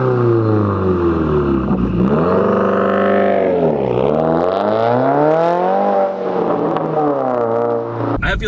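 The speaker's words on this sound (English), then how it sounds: "Let me throw in a exhaust clip here." A modified 2016 Subaru WRX making about 400 horsepower drives along, its exhaust loud and close as the engine revs rise and fall through several gear changes in a continuous droning growl.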